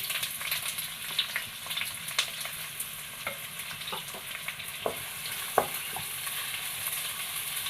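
Sliced onions fry in oil and ghee in a hot kadai, giving a steady close sizzle broken by occasional scraping stirs and soft clinks, with no voices.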